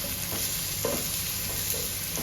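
Onions frying in a pan until soft for a methi chicken dish, a steady low sizzle with soft stirring scrapes, close and fairly quiet with no voices.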